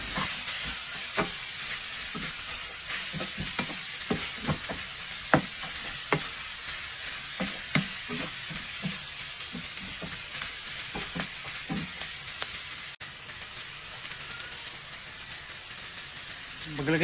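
Onion and garlic sauté in a pan while being stirred, a continuous sizzling hiss broken by repeated scraping and clattering utensil strokes at an uneven rhythm.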